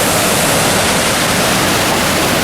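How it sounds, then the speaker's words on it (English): Stanley Falls waterfall in Jasper Park, Alberta, a steady loud rush of falling water that fills the whole short stretch with even, unbroken roar and no voices. "So here we are in Alberta, in Jasper Park at the Stanley Falls."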